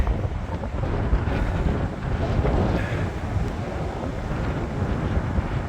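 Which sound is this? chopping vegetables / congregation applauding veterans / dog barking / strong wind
strong wind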